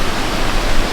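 A small mountain creek in winter rushes over rocks, a steady close-up broadband wash of flowing water with no voices.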